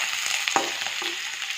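Pork sizzling as it fries in a pan for a pork and tomato dish, a steady close crackle with a few sharper stirring clatters partway through, no talking.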